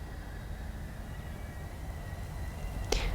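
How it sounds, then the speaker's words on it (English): A low steady rumble of a train passing at a distance on tracks beside a yoga studio, constant and fairly faint, with a brief sharp click near the end. "you might hear train noises here and there throughout our practices together"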